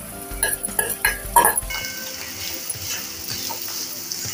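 Bitter gourd, already fried, stirred with turmeric and salt in a pan: a burst of scraping, clattering spoon-on-pan strokes for about two seconds, then a softer steady sizzle and faint stirring.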